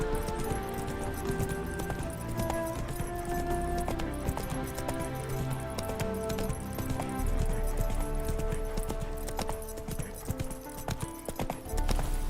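Roach, Geralt's horse in The Witcher 3: Wild Hunt, gallops with a rapid, continuous clip-clop of hooves and jingling tack. Game music plays underneath, and a brief snort or whinny comes through.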